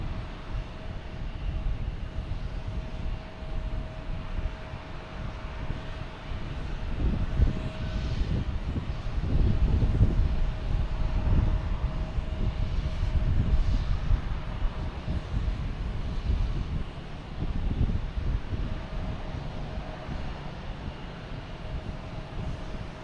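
A British Airways jet departing Boston Logan Airport, its engine roar rumbling low and steady from a distance, swelling in the middle and fading, with no talk over it.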